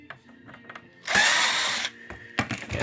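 A handheld power screwdriver whirs loudly and close for about a second while backing Phillips screws out of the rear panel of an Epson WF-series printer, followed by a few small clicks and handling knocks.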